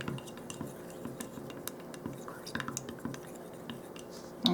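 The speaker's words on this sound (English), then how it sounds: "That's always so pretty when you stir paint together like that." Paint being stirred together in a can, with scraping, clinking taps of the stirrer against the container in an irregular rhythm, close and fairly quiet with soft background noise.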